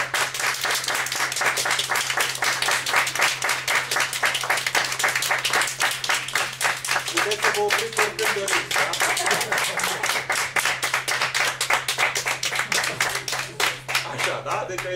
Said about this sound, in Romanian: Și o să vă rog acum să aplaudați pentru speech-ul lui Bio.